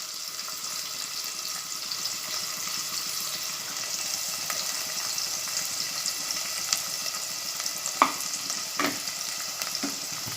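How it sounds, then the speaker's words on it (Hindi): Soaked masoor lentils fry in a pan over medium heat, giving a steady, even sizzle throughout with a few faint clinks of stirring. "अब मैं इसमें आखे मसूर जो भिगे हुए हैं वो तल कर लूँगी।"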